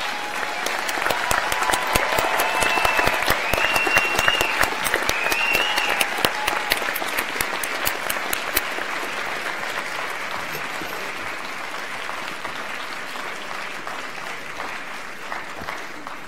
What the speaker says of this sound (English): give your family, friends and the staff here a huge round of applause